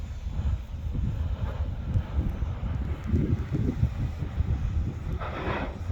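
Wind blowing near an active volcano at the Litli-Hrútur eruption site in Iceland, a steady low rumbling roar across the microphone with gusty swells and a brighter whoosh near the end.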